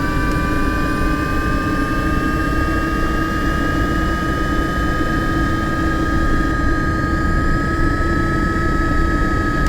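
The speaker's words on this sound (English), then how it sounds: "the gearbox whine and the rotor flapping to a recognizable degree" Steady simulated Eurocopter EC135 helicopter noise with a high whining gearbox tone over a dense low rotor flapping rumble, constant and close throughout.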